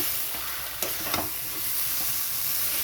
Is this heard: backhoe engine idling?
no